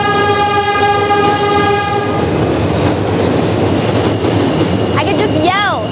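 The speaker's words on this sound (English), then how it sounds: "the train, this happens a lot." A train rumbles past in Brooklyn, New York, loud and close, with a sustained multi-tone horn for the first two seconds, then steady rail clatter and a brief squeal near the end.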